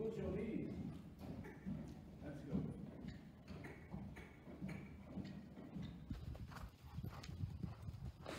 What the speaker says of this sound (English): that is my horse